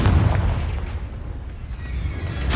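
A Confringo spell explodes in the video game Hogwarts Legacy, a deep heavy boom at the start that rumbles and fades, with a second burst rising at the very end.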